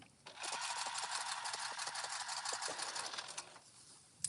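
Sewing machine top stitching the curved straps of a reversible jumper, a quiet run of rapid rhythmic needle clatter that starts, holds steady for about three seconds, then stops.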